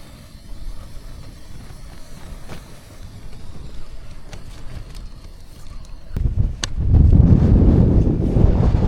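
Strong wind of about 20 miles an hour roars and buffets the microphone at a tent camp on Haycock, building to a loud, steady rush in the final seconds.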